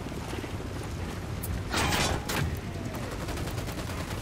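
Rapid gunfire rattles through a Ghost Recon firefight, a dense continuous stream of shots with a brief louder burst in the middle, heard fairly close with no voices.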